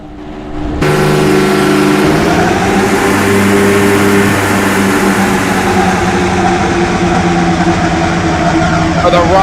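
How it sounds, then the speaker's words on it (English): Thirty-three race car engines start together at the Indianapolis 500 in the iRacing game, a sudden loud roar that settles into a sustained, thick rumbling drone of many idling and revving engines close by. "For the rumble of 33 of these awesome race cars, that is a perpetual sound of such sweet thunder."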